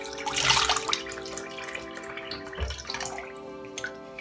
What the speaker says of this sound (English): If you guys hear water, it's not because I'm wasting water,